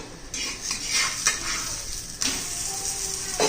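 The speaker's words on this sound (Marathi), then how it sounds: "मस्त असं भाजून घेऊया." A cheese paratha roasting on a hot pan gives a steady, close sizzle throughout, with a few sharp clinks and scrapes of a utensil against the pan.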